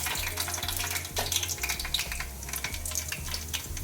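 Ginger garlic paste sizzles in a hot pan for chicken biryani, a close, steady crackling fry with a low humming drone underneath and no one speaking.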